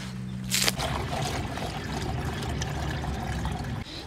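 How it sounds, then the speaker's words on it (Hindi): Water is poured and trickles steadily as a pigeon drinker is emptied and refilled, a continuous splashing pour that carries on for several seconds after a short hiss at the start. "पानी मैं इनका पहले ही चेंज कर देता हूँ"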